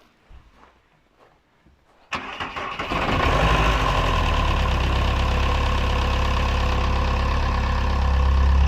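A non-turbo diesel van engine cranks after a quiet moment, catches, and settles into a loud, steady, clattering idle close by.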